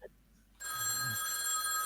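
A telephone starts ringing after a short quiet moment, its bright electronic bell tone loud and continuous to the end.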